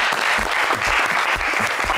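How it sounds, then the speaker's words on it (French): Studio audience on a French magic game show breaking into loud, sustained applause, dense clapping filling the whole stretch with no voices over it. "on va vous applaudir très, très, très, très fort"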